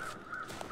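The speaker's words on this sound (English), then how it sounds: "And there's some crows." A crow in The Long Dark gives a single short caw over a quiet wind-like ambience, fairly distant and alone.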